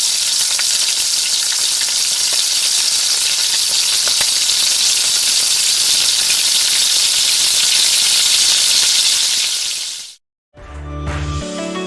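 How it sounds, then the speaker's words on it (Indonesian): Loud, continuous sizzling and crackling of chicken frying in hot oil, close up, lasting a long stretch before cutting off abruptly. "kita goreng ayamnya terlebih dahulu ya. Goreng ayamnya hingga matang."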